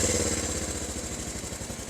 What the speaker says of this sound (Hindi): ये इस बाइक की आइडलिंग साउंड है